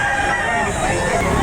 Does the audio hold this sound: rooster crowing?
yes